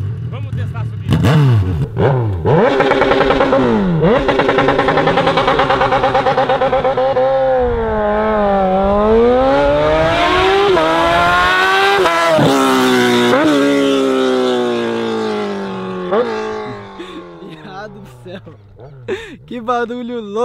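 Straight-piped XJ6 or Z1000 motorcycles accelerating uphill, loud and close, with engine notes rising and falling through repeated gear changes, sharp revving sweeps under scattered voices.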